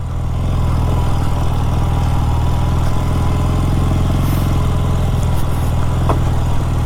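A 48-year-old Honda motorcycle engine runs steadily and loud up close, its low droning hum continuous throughout with no talk.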